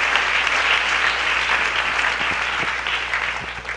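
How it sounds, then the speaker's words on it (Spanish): Loud, sustained audience applause at a live Easter resurrection celebration in Tzucubal, Nahualá, a dense continuous wash of clapping with a few sharper claps standing out near the end. "Os van a brindar fuertes aplausos."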